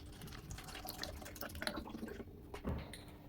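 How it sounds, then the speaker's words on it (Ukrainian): Vinegar trickles and splashes quietly into a bottle in short irregular bursts, faint and close, with no one speaking. "і наливайте трішки у пляшку."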